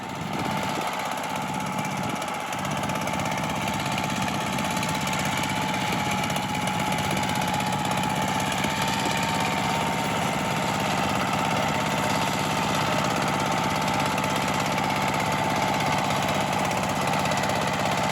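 A small walk-behind tiller engine runs continuously, a steady droning chug with mechanical rattle, close and loud throughout, while tilling a narrow row between pumpkins.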